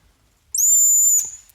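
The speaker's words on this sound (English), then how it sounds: "It's a printed whistle. You want to hear it?" A tiny 3D-printed metal whistle gives one steady, piercing shrill blast lasting under a second, loud and close, breaking off abruptly into quiet.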